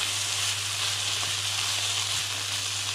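Mushrooms frying in a pan after their water has cooked off, a steady close sizzle with a faint low hum underneath, no voices.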